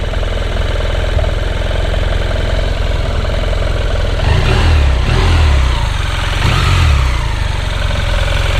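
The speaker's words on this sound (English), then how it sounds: "The engine is fairly quiet." A 2017 BMW F700 GS motorcycle engine idles with a loud, steady rumble, rising briefly twice in gentle revs before settling back to idle.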